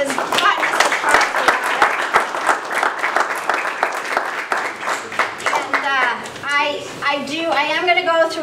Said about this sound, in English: give a round of applause to CHT for stepping up to do that